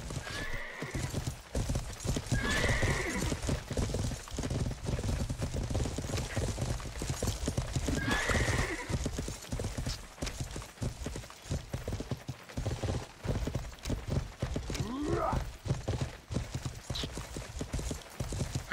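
Horses in a video game PvP battle, their hooves clip-clopping steadily at a gallop with repeated neighs and whinnies breaking through, loud and close amid the clatter of combat.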